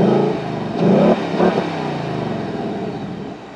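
A 2024 Ford Mustang GT 5.0 Premium coupe revved remotely from the key fob, a short loud V8 blip rising and falling twice, then settling into a rumbling idle, close by with no talk.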